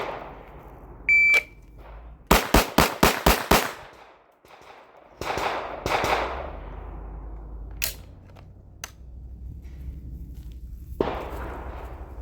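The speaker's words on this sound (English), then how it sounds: "you fire 6 shots as fast as you can" A Glock 47 pistol fires six rapid shots in a quick, evenly spaced string, loud and sharp, preceded by a timer beep and followed by further scattered shots and range noise.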